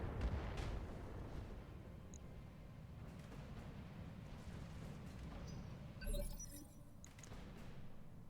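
Enemy mech weapons fire in the BattleTech game with the RogueTech overhaul mod: a dense, continuous low rumble of repeated blasts and impacts, with a sharper burst of debris-like crackle about two-thirds through.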